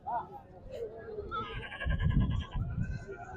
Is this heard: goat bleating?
yes